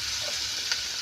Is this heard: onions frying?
yes